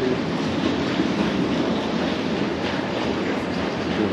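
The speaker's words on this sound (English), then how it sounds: "Just waiting for the monorail now." A monorail train moves nearby with a continuous rolling rumble and faint wheel clatter, heard steadily and fairly loud with no talk.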